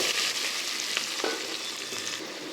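Sliced onions hit hot oil with spices and fry in a loud, continuous crackling sizzle, with small stirring scrapes popping through close up.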